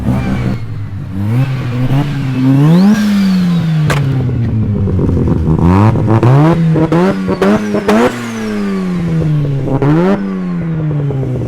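A 13B bridgeport rotary engine in a big-turbo Mazda RX-7 revs hard and loud, pitch repeatedly climbing and falling through several sharp blips with crackling, close and alone.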